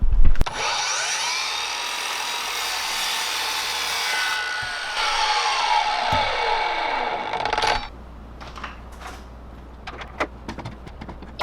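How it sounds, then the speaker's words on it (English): A table saw rips through a solid block of wood, with a loud, steady whining cut lasting about seven seconds before it winds down into quieter workshop clatter. "Kind of scary when a piece of wood is deciding whether or not to get sucked into the table saw."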